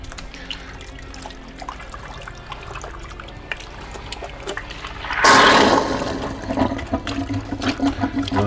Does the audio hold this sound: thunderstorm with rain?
no